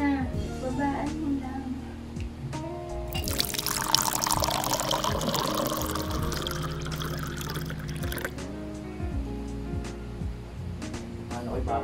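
Red wine pours into a glass for a few seconds in the middle, a bright splashing rush under ongoing chatter and people talking nearby.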